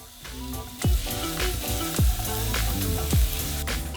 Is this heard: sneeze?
no